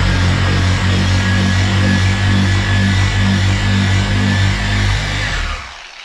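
A DA8 dual action car polisher runs with a loud, steady electric whirr and hum, then winds down at the end.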